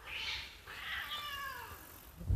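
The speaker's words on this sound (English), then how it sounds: "Cats fighting. Shut up, cat." Cats fighting with drawn-out yowls and caterwauling, two or three wailing cries rising and falling at moderate volume, ending in a sudden thump.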